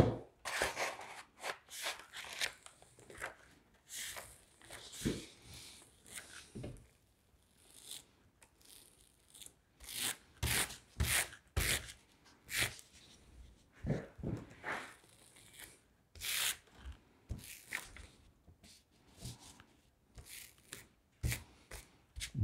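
Craft paper for a panel glue-up rustles, crinkles and tears in quick, irregular bursts of close, fairly quiet handling sounds, with no speech.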